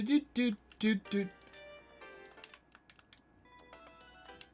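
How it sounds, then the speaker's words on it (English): A phone ringtone in the Steins;Gate video game plays as a melodic series of tones, with several louder notes near the start and quieter electronic chimes after, while a person talks over it. "Set call ringtone."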